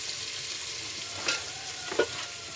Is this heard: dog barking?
no